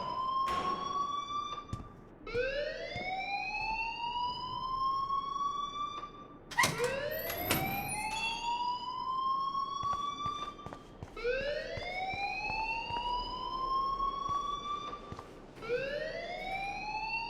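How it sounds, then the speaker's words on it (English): A school alarm in the video game Life Is Strange wails in repeated rising sweeps, each climbing in pitch and holding before restarting, loud and continuous with occasional sharp clatters. "please turn off that alarm since that's your job"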